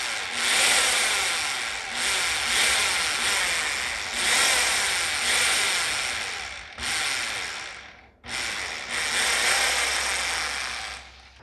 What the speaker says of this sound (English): and we'll drill a couple holes.